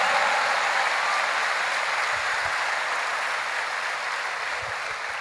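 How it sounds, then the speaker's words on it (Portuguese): Church congregation applauding together during an Easter service, a steady, dense wash of clapping that holds evenly for several seconds with no voices over it. "você pode aplaudir ao Senhor"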